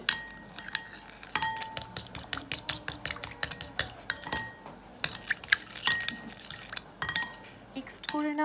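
Spices and sugar being stirred into sour yogurt in a bowl, a spoon clinking rapidly and repeatedly against the dish in a busy, uneven rhythm, close and fairly crisp, with no talking.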